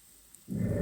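Onions frying in a pan for homemade chili, starting at mid-clip as a close, steady sizzle that swells loud and dense after near-silence, with no talking.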